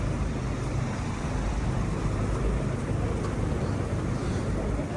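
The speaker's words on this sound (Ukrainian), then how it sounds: "Фактично можна чути всюди звук працюючих генераторів." Many power generators run in city streets during a blackout, heard as a dense, steady broadband rumble that fills the scene evenly, with faint traffic-like noise and no clear speech.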